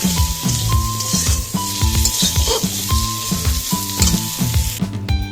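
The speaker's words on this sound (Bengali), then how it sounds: "তেল রসুন ফোড়ন দিয়ে দেবো।" Chicken sautéing in oil with garlic in a pan, a loud continuous sizzle with rhythmic stirring knocks at a regular pulse, close and unaccompanied by speech.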